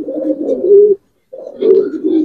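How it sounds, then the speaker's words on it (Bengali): Giribaz pigeons coo loudly and close by in a pigeon collection, two throaty rolling phrases separated by a short pause. "অনেক সুন্দর কবুতর,"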